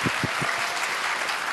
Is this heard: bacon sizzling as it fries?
no